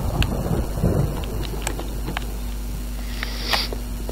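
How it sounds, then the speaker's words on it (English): Rain and thunder effects from the video game Vampire Rain: a steady low rumble and wash of rain noise with scattered sharp ticks, and a brighter swell near the end, with no talking. "Let's listen to the rain effects and the thunder as well."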